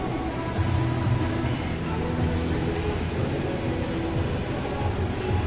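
A steady rumble of an LRT light rail train at a station fills the space, with a continuous mechanical drone and a faint hiss, with no clear talking.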